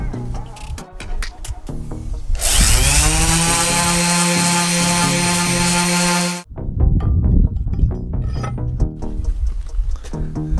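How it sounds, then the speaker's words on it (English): A power sander works over an old object being restored, letting out a loud, steady, high whine for about four seconds between quieter handling noises and clatter. "So what I'm gonna do now is just hit this with the sander"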